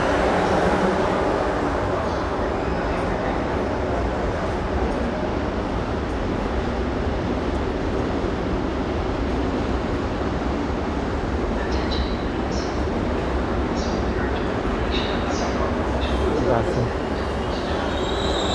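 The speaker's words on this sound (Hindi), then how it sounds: "डबल डेकर ट्रेन है जी।" Steady loud rumble of an Italian double-decker train in motion at speed, heard from inside, with continuous wheel and rail noise, faint squealing and a few clicks, with no break throughout.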